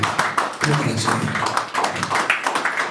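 A church congregation applauds and cheers in praise, with dense, continuous clapping and crowd voices held at a steady level from start to finish.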